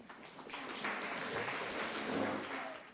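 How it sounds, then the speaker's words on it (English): Steady applause fills a scene in the 1997 film Good Will Hunting, a dense continuous crowd clapping that swells slightly midway and holds for the whole stretch with no talk. "Got an applause on that one."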